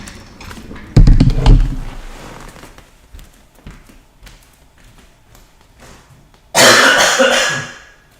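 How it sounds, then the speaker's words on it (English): A person coughs away from the microphone, with one loud cluster of coughs and throat clearing early on and then a second sustained burst near the end, separated by quiet shuffling and light taps. "I had to cough while coming back, my bad"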